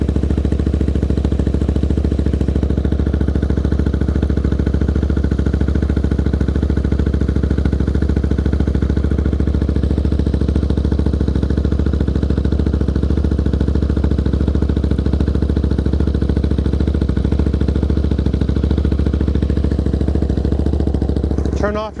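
A Royal Enfield Interceptor 650 motorcycle's twin-cylinder engine idles steadily up close with a constant low rumble, while a person talks over it throughout.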